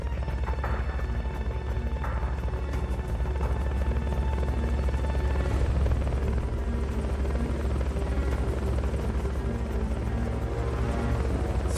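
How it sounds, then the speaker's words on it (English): Fulton recovery helicopter in the video game Metal Gear Solid Peace Walker, a steady droning rotor hum holding at an even level throughout, with a faint whoosh in the middle and no talk. "Fulton recovery helicopter is complete."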